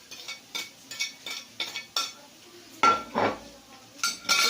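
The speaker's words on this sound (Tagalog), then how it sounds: "Ngayon, ihalo na naman natin yung carrots." Ground pork and carrots being stirred in a pan with a metal utensil, a run of rhythmic scrapes and clinks against the pan over a faint sizzle, close and fairly loud, with no voices.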